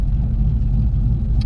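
A car engine running lean with a fuel problem gives a brief, close, deep rumble as the throttle opens, heard on its own without speech.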